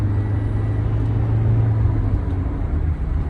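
A Toyota Innova Crysta 2.4 diesel pulls away in eco mode, its steady low engine drone and road rumble close and continuous, with no talk over it.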